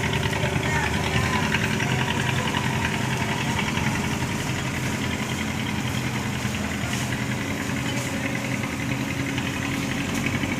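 A full passenger boat's engine chugs steadily and loudly up close as it departs for Mercedes across the water, a constant rumbling drone throughout.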